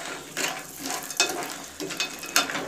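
A spoon scrapes and stirs haleela (garden cress seeds) in a little ghee, giving several distinct scraping strokes with a faint sizzle between them, close and steady.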